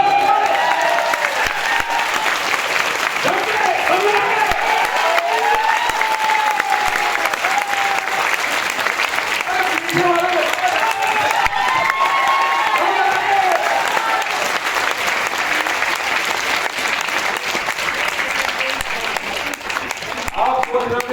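A large audience claps and cheers at a live Hindi comedy-style talk, a loud, dense, steady roar of applause lasting throughout with crowd voices mixed in.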